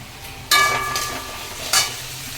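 Spices and tomato hit hot oil with fried potatoes in a pan, giving a sudden loud sizzle that hisses steadily, then flares again briefly with a second addition.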